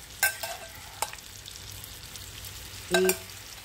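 Mashed banana frying in a pan while being stirred, with scraping bursts of the spoon against the pan over a faint sizzle; a louder stir comes near the end.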